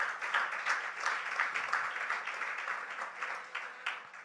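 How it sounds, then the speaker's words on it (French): A church congregation applauds the Lord during a French-language intercession service, steady soft clapping from many hands that carries on for several seconds at moderate distance. "Acclamons très fort le Seigneur."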